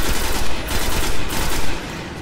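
Loud, close bursts of rapid gunfire in the video game Destiny crackle in a dense, continuous volley with several distinct peaks, and no speech over them.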